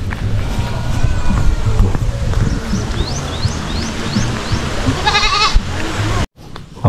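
Goats on a farm, lined up for deworming, bleat several times against loud low rumbling and background noise, with bird chirps scattered through and a brief dropout near the end.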